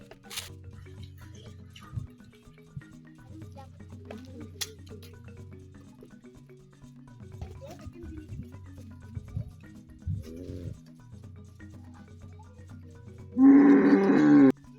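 A cow on an African village farm during milking lets out a single short, loud moo near the end, following a long stretch of quiet low rustling and small handling noises close by.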